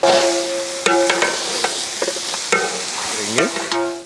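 Gongura leaves and tomato pieces stirred in a hot pan for mutton biryani: a spoon scrapes and clanks against metal in several distinct strokes over a continuous sizzle, close and loud with no talking.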